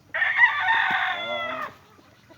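A rooster crows loudly and close in one long drawn-out call on a small family chicken farm, with faint clucks around it.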